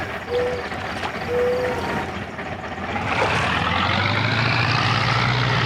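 Farm tractor engine in the video game Hinterland, pulling a fertilizer spreader loaded with lime, a steady droning motor that swells and holds loud and continuous as it drives off.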